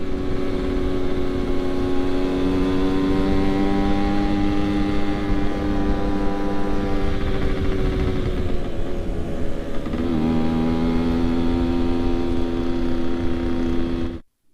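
A motorcycle at a drag bike circuit in Bali drones loudly and steadily close by, its engine pitch dipping briefly before holding again and then cutting off abruptly at the end.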